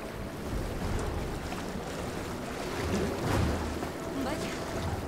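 Water in Horizon Forbidden West washes in a steady, rushing wash of waves and surf, a continuous broad roar with slight swells in loudness.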